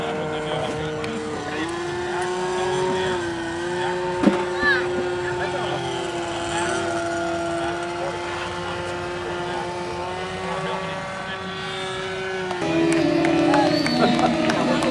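A radio-controlled scale model airplane's small engine drones steadily at a high, even pitch as it buzzes overhead, with a brief louder surge near the end.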